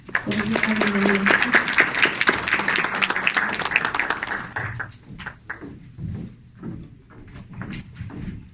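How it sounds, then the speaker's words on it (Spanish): An audience claps for a commissioner at a conference talk, a few seconds of dense applause with voices mixed in, then scattered claps and knocks taper off into quieter room noise. "le demos un fuerte aplauso"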